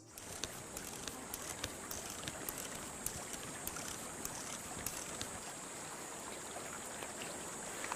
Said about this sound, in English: little brooks like this one can be a real godsend